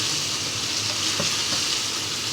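A bottle gourd stew cooks in a pan, giving off a continuous bright sizzle and bubbling frying hiss that stays even and close, with no talking.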